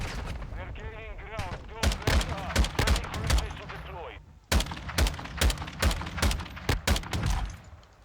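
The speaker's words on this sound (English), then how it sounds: "I'm getting shot at." Gunfire in the video game Modern Warfare 2, sharp loud shots cracking in bursts and single reports over a busy game soundscape, with a voice talking during the opening seconds.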